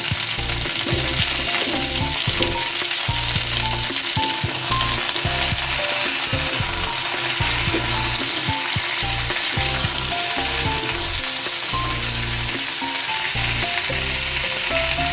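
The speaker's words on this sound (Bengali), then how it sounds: "এবার ডাটাটা দিয়ে দিচ্ছি।" Vegetable stems added to a pan of frying pumpkin and ridge gourd for a vegetarian curry sizzle continuously up close, with rhythmic stirring and scraping of the spatula across the pan, no speech.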